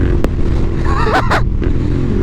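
A loud Royal Enfield Interceptor 650 motorcycle engine with an aftermarket exhaust idles roughly, then blips twice in quick throttle revs with a throaty, rumbling exhaust note, settling back to a steady idle.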